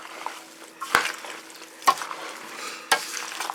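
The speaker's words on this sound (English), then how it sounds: "And give this another stir." Tomatoes with sugar and canning salt being stirred in a 16-quart stock pot, three distinct close scraping strokes spaced about a second apart over a soft wet simmer.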